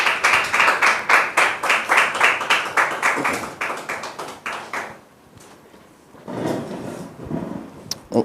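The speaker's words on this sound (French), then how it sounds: "Merci de recevoir sur ce plateau Dame Déborah et Christ Ivan sous vos applaudissements" Studio audience applause on a French television talk-show set, a dense burst of many hands clapping for about five seconds, fading out, then a brief second swell of clapping near the end.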